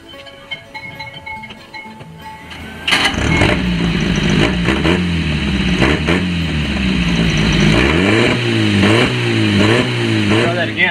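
A 1950 Crosley Hot Shot engine fitted with a new muffler starts up and runs loudly nearby, with a steady exhaust drone and several rising revs; a voice speaks briefly over it.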